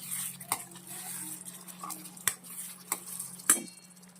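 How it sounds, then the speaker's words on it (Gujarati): A spoon stirring a Kathiawadi stuffed whole-onion curry in a pan: a few distinct clinks and scrapes against the metal, close up, over a soft steady sizzle of oil, with no one speaking. "હવે એકવાર આપણે હલાવી લઈશું"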